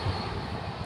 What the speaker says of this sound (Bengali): এদিকে দেখতে পাচ্ছ বন্দে ভারত ট্রেনটি সামনে দিয়ে পেরোচ্ছে